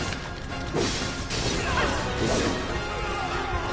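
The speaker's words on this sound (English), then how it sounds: "I love smashing up rooms." Smashing through rooms in Final Fantasy VII Remake gives steady crashing and thwacking impacts with swishing strikes. The crashes come close together and stay loud across the whole stretch.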